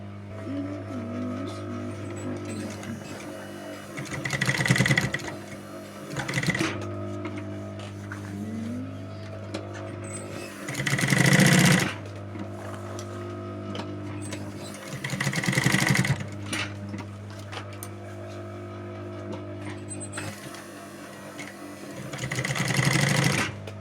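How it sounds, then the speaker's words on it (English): A sewing machine stitches a fabric handbag in repeated bursts about every five seconds, each run of whirring motor and needle rising over a steady low mechanical hum, with quieter pauses between. "All right, so now we are going to stitch it."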